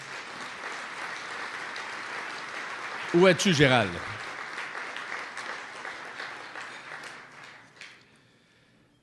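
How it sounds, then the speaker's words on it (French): Applause from a conference audience at a forestry association congress fills the room, with a speaker's voice cutting in briefly before the clapping fades out toward the end. "Mesdames, Messieurs, on pourrait donner une main d'applaudissement"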